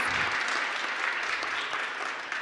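An audience at a geopolitical panel event applauds as a speaker is welcomed, a steady, continuous patter of many hands clapping, loud and even for the whole stretch.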